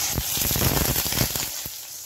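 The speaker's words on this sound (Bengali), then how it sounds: "এখানে এখন ডিমটা ভেজে নিব।" An egg frying in a pan, with dense crackling sizzle and sharp spattering pops that stay loud and close throughout, no voices.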